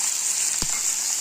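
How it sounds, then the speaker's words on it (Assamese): Dried fish frying in a pan for a chutney, giving a brief, steady, close hiss of sizzling oil with one soft low bump midway. "এতিয়া এই শুকান মাছটো ভাজি ল'ম।"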